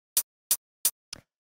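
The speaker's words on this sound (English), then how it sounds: "the next sound we have here in the drums is this little hi-hat" Short crisp hi-hat sample ticking four times at an even eighth-note pace, dry and close, the last hit slightly softer and rattlier.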